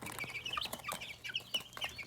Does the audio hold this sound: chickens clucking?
yes